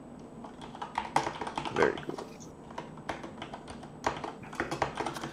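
Fingers type quickly on a computer keyboard, with irregular bursts of close key clicks and taps running under a person's brief spoken comment.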